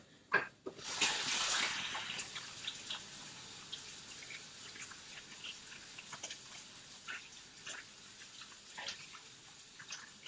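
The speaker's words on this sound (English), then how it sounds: "let me just wash my hands" Hands washed under a running kitchen tap, water bursting on loudly at first, then a steady splashing stream with drips and light handling sounds.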